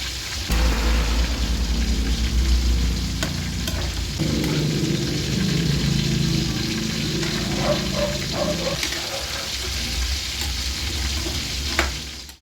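Chicken liver and gizzard steak fries in a pan while being stirred, a loud steady sizzle with repeated scraping and clacking of the utensil throughout.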